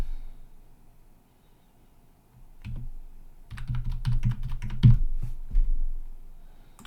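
A password is typed on a computer keyboard, with quiet scattered key clicks followed by a denser run of close, crisp keystrokes, and no talk.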